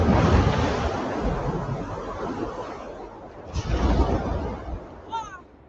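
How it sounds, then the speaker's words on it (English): Wind gusts in the video game Never Alone, a steady broad roar rising and swelling over several seconds with a brief surge midway, ending with a few faint high chirping tones. "I need to wait for more wind."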